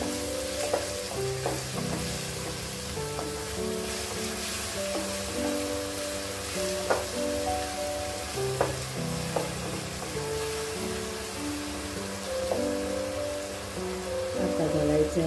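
Four spoons of sugar frying and melting in a pan as it is stirred, a continuous close sizzle with repeated scraping and clinking of the spoon, a faint voice briefly in the background.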